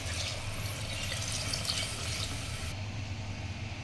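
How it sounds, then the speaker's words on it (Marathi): Water is poured into a pot of salted rice that was just sautéed for chicken dum biryani, a steady, close splashing rush that runs for the whole few seconds with no one talking. "आता याच्यामध्ये पाणी टाकूयात।"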